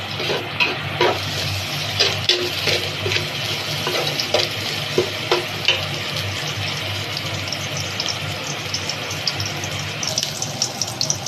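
Ilocano pinapaitan ingredients frying until golden brown in a pan, a steady near sizzle with scattered stirring scrapes and faint background hum throughout.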